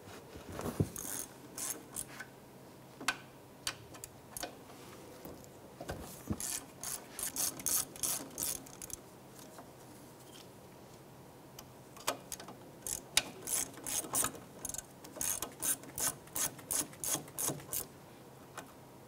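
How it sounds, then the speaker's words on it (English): An Allen wrench ratchets out caliper slide pins on a 2001–2007 Ford Escape, making bursts of quick, clicking turns with pauses between them. The clicks sound close but fairly quiet, with no talking. "Remove your caliper slide pins here using a number 7 Allen wrench."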